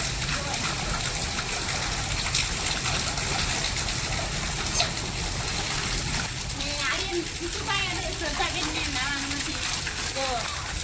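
Heavy monsoon rain in Botad pours down with steady broadband splashing and running water throughout, while voices and a few chirpy sounds rise over the wash in the later part.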